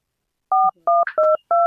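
Telephone keypad tones as a number is dialed: four short, crisp dual-tone beeps in quick succession, loud and close, with no talking.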